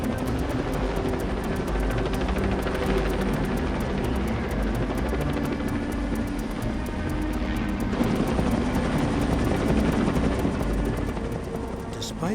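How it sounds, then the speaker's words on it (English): A helicopter drones steadily overhead, its rotor thumping in a continuous dense rumble that holds loud and even throughout. "the helicopter is forced to make some dangerous maneuvers"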